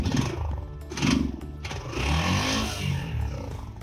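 A motorcycle that sat unused through lockdown, its engine firing up and rumbling at idle close by, a low uneven churn running steadily through the few seconds.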